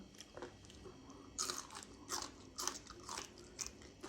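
Crunchy bites of spicy papaya salad (som tam) eaten by hand, a series of crisp, close crunches at an uneven pace with no speech.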